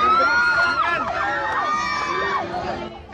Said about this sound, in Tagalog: Ang mga namimiesta, hiyawan sa palaro ng Palo Cebu